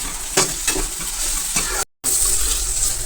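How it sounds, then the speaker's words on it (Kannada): Chopped tomatoes sauté in a hot pan with a loud, steady sizzle, broken by a few scraping stirs and one brief dropout, heard close with no voices. "ಇವಾಗ ನಾನು ಕಟ್ ಮಾಡ್ಕೊಂಡಿರೋಂಥ 3 ಟೊಮೊಟೊನ ಹಾಕೋತಿದ್ದೀನಿ. ಹಾಕೊಂಡು ಸ್ವಲ್ಪ ಹೊತ್ತು ಬಾಡಿಸ್ಕೋಬೇಕು"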